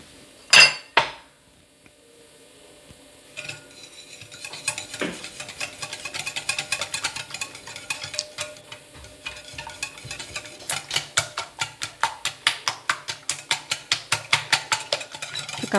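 Sugar, salt and eggs are beaten together in a bowl, starting with a few scattered clinks and building into a fast, regular run of close metallic taps as the whisk strikes the sides.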